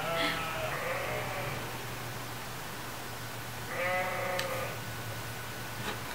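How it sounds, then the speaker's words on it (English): Sheep bleat a few times in the background, one call near the start and another around the middle, over a steady low hum. "Can you hear my sheep in the background?"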